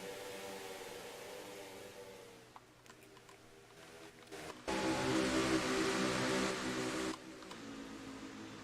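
Ford Mustang race car engine at a drag race in Boston, a steady mid-pitched drone that swells into a louder, harsher roar for a couple of seconds before dropping back.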